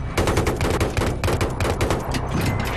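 Rapid bursts of gunfire from Battlefield 3's campaign, close and loud, firing in quick repeated volleys with brief pauses between them and no talk over it.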